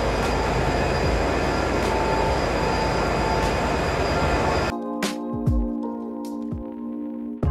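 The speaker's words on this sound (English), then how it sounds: "So dito na kami sa Glasgow Central Station. Sa kanya namin ScotRail." A ScotRail train at Glasgow Central Station rumbles loudly with a steady roar, then cuts to a quieter platform hum with squealing wheels and metallic clicks and clanks nearby.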